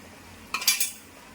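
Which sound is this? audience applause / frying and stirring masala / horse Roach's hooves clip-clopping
frying and stirring masala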